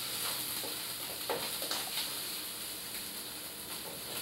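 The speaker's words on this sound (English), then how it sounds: "I add some ginger paste and garlic paste and stir it well" Ginger and garlic paste frying in a pan as it is stirred, giving a steady low sizzle with a few soft scraping taps, fairly quiet and with no talking.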